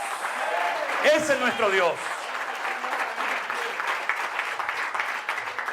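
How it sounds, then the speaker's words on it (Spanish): Church congregation applauding during a Spanish-language sermon, with a voice speaking over the dense clapping near the start before the applause continues alone, steady and close. "Fuerte ese aplauso a Él."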